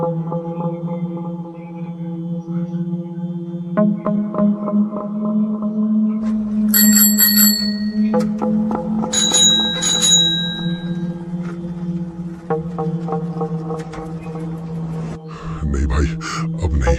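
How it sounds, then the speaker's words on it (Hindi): Bicycle bell rings in short bright bursts on a rainy evening near a roadside tea stall, heard twice over a steady low hum and background music, fairly near and loud, with a voice speaking at times. "घंटी की आवाज पीछे से आ रही है"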